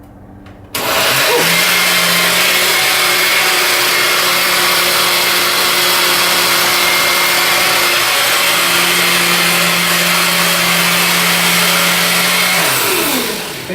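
Blender running steadily at full power, pureeing sweet potato and carrot soup, a loud continuous whirring motor drone that starts abruptly and holds for many seconds before easing off at the end.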